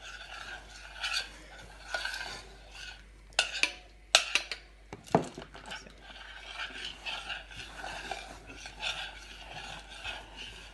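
Chocolate is stirred as it melts into cream, giving soft, irregular scraping and swishing strokes in a pan, close and fairly quiet, with a few sharper clinks midway and no talk.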